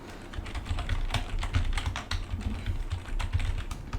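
Rapid, steady clicking of typing on a computer keyboard, close and continuous with brief irregular pauses, no voices present.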